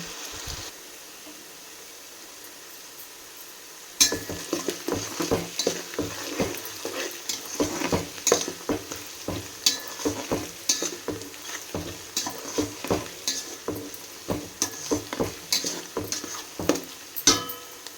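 Onion pieces frying in oil in a pan, a quiet pause giving way to a loud, busy sizzle with repeated scraping and stirring strokes of a spoon against the pan, close up and without talk.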